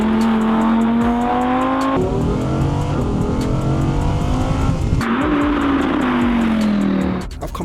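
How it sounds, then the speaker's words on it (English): A supercar engine holds a loud, steady drone close by, its pitch sliding slowly and stepping up briefly before settling again, then cutting off near the end. "it looks like a supercar, it sounds like a supercar."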